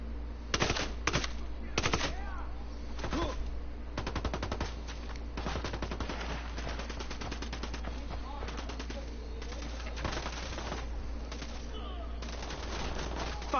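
Gunfire in the tactical shooter Ghost Recon, repeated sharp shots and rapid automatic bursts that crack out steadily across the whole stretch of play, close and loud, with faint voices underneath.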